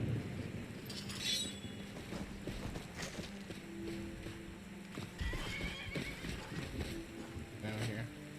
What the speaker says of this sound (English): Is that a stall horse?